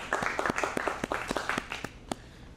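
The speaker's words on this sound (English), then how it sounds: "So let's give him a good hand." A small audience applauds a student's screenplay in a screenwriting class, a short round of scattered, uneven handclaps that thins out and ends in a few last claps.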